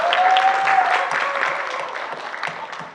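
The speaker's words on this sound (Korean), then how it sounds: "박수 한 번만 부탁드리겠습니다." An audience at a youth talk event breaks into applause, a dense wash of clapping that stays steady for about three seconds with a faint tonal whistle near the start.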